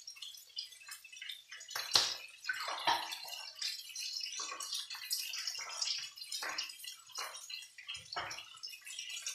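Water poured over chicken seasoned with honey and Mexican spices, an irregular splashing and trickling with intermittent gushes and drips, fairly close and with no talk.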